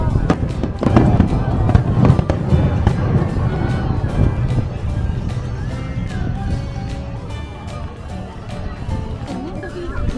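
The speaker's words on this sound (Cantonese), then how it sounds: "話會有煙花祭嘅，所以我哋就去睇啦" Fireworks at a festival in Okinawa crackle and pop in rapid bursts, with dense overlapping bangs and booms heard from nearby. Crowd chatter and voices run underneath throughout.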